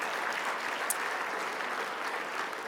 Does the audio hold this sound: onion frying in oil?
no